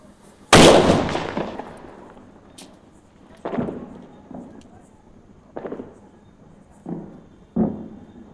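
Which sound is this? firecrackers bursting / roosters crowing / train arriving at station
firecrackers bursting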